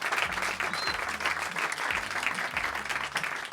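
A live podcast audience of about fifty people applauds, a dense steady clapping with light crowd murmur and low-voiced chatter underneath, continuous for several seconds.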